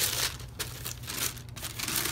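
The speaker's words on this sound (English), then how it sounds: "Regular tissue paper." Tissue paper inside a box of Nike Flyknit Trainer sneakers crinkles and rustles close up during unboxing, a steady crackling texture with a few sharper crunches.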